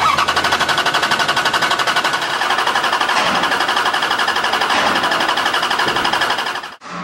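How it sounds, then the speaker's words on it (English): Car engine cranking over on the starter during a cranking vacuum test, a rapid, even chugging rhythm held loud and steady for about seven seconds before cutting off. "First test would be the cranking vacuum test."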